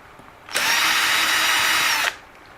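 A small power drill whirs steadily for about a second and a half, backing out hidden screws on an Eachine EAT11 RC car, close and loud, with quiet before and after.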